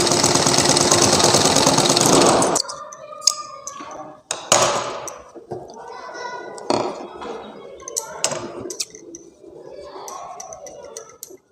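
A sewing machine stitches tulip palazzo wrap trouser fabric in a loud, steady whirring burst of about two seconds, then stops. Scattered clicks and fabric handling follow, with a voice talking over them.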